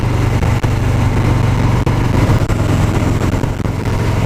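A 2018 Harley-Davidson Fat Boy with the 107 engine rumbles steadily and loudly while being ridden, a constant close-up drone with no pauses.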